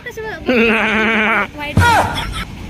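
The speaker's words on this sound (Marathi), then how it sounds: "इकडं बघा बोकड आहे तिकडं" A billy goat bleats outdoors in a long, loud, wavering call, followed by a shorter bleat mixed with a brief voice.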